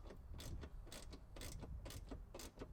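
A wrench ratchets a Ford strut tower brace nut on a 2015-2019 Mustang, giving a quick run of close, rhythmic clicking strokes at a low level with no voices.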